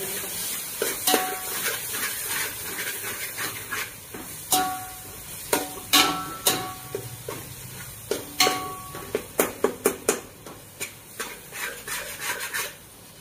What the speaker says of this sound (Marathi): घरचा मसाला टाकू 1-2 चमचे. थोडीशी तिखट पण झाली पाहिजे ना. आणि सगळं हलवून घेऊया.